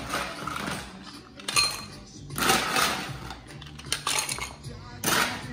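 Ice cubes clatter into a cocktail glass in several loud, close bursts of clinking and rattling, separated by short quieter gaps.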